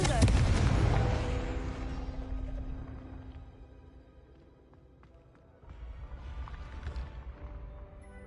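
A fiery Confringo spell blast in Hogwarts Legacy erupts loudly with a booming explosion that rumbles and slowly fades, then a second burst follows a few seconds later, with brief speech in the mix.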